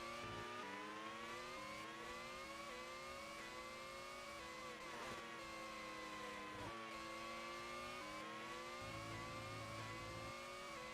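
Lotus race car engines in an FRC 2011 German Grand Prix race, a loud, close, continuous engine whine rising and dropping with several upshifts and brief lifts across the clip.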